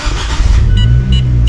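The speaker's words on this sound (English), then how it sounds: "start your car" A car engine starts and settles into a loud, low, steady idle rumble close by, with a few faint clicks on top.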